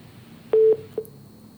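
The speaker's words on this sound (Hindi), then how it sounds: "तो पीएचसी मलारना के प्रभारी है डॉक्टर अमन, फोन लाइन पर हमारे साथ जुड़े थे, लेकिन उनसे संपर्क नहीं हो पा रहा है" Telephone line on a failed call connection: one short, steady electronic beep followed by two faint, brief blips, alone over a quiet line hiss.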